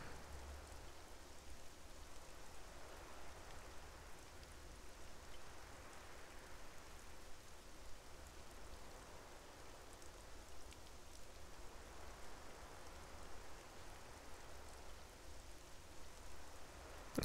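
Steady soft rainfall in the Xenoblade 2 Torna video game, a faint continuous hiss of drops on surfaces with no voices over it.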